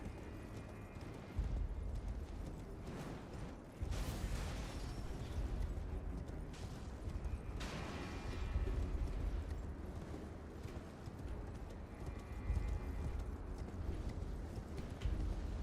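A horse gallops in Elden Ring, its hooves beating a steady clip-clop under a dense, loud wash of game sound with booming bursts throughout.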